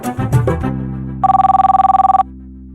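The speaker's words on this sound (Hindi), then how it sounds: "घंटी जा रही है।" A telephone rings once, a single loud electronic trill lasting about a second, close and clear, following a brief low thump and some rumble.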